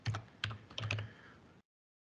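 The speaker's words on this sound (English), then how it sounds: "I'm typing live now at the moment for you." Close, quick keystrokes on a computer keyboard tap out in a brief irregular burst of clicks and then stop, leaving silence.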